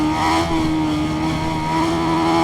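A BMW S1000RR superbike with an Akrapovic exhaust in the racing game Ride 5 holds a loud, steady high-revving engine drone with a strong tonal whine at full throttle, no talk.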